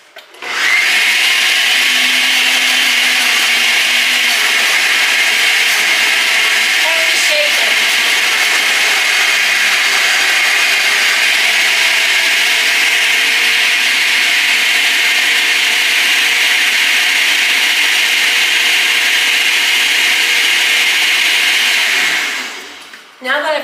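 A blender purees strawberries for jam in one long, loud, steady whir that runs for over twenty seconds at constant pitch, then cuts off abruptly.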